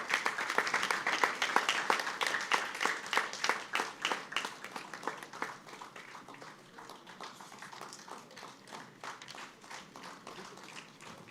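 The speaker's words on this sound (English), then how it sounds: "Please give a big round of applause." Steady applause from a crowd, many hands clapping at once, loudest at the start and then settling into a lighter, continuous patter.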